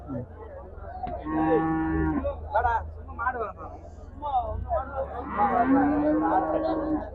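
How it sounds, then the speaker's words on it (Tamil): Seema breed cattle at the Vadalur cattle market moo in several long, loud, nearby calls, with crowd noise and market chatter underneath. "இது சீம மாடுன்னு சொல்லுவாங்க சீம மாடு"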